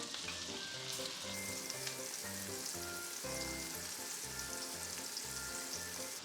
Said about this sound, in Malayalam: നമ്മൾ ബട്ടറിലാണ് ഫ്രൈ ആക്കുന്നത് കേട്ടോ